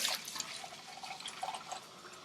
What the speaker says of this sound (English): Till your water runs clear and there's no more soapy water.